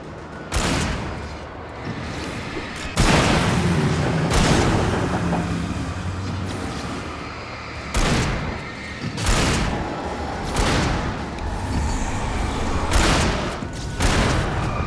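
Gunfire in Alan Wake, a series of loud, sharp shots spaced irregularly over a constant rumbling game backdrop, some in quick pairs and others after short gaps.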